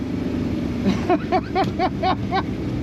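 A drag racing car accelerates at the strip, its engine rising in a quick series of roughly five repeated revving surges over a windy, rumbling background.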